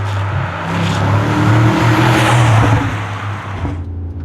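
A Mercedes G63 AMG fitted with an Akrapović titanium exhaust roars loudly and close by through a downshift on overrun, a dense continuous engine and exhaust rumble that cuts off sharply at the end.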